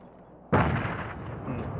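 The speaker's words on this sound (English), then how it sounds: "Throwing a random nade" Grenade explosion in the battle royale game PUBG: quiet ambience, then one sudden loud blast at about half a second, with a rumbling tail that stays heavy to the end.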